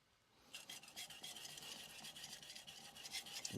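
A Japanese curved bunka knife by Nakamura Hamono is ground on a Morihei 1k whetstone with quick back-and-forth rasping strokes that start after a brief quiet moment and continue steadily, faint and close, with no talking.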